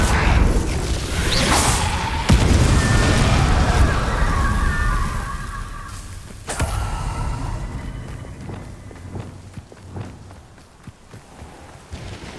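A Confringo blasting spell explodes in Hogwarts Legacy, with a sharp crack near the start, a rushing whoosh, and a second burst a few seconds later, then combat rumble and shuffling that fade toward the end.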